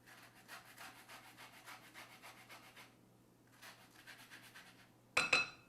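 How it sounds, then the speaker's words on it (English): Fresh orange peel scraped against a kitchen grater, a rapid run of soft rasping strokes, a short pause, then more brisk grating close up, ending with a sharper clatter. "Now for our orange. Best part, we're just gonna grate a little bit in here."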